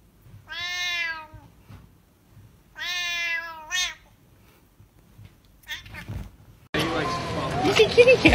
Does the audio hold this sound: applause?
no